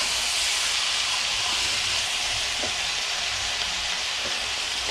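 Chicken wings sizzle in a rough, granite-coated pan while being browned, a steady loud broadband frying hiss running throughout with no one talking.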